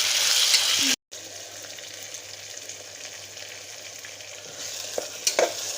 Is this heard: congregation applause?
no